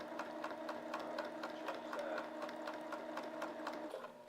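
A sewing machine runs steadily as it stitches fabric, with a fast, even mechanical chatter and a low motor hum throughout, heard close and continuous.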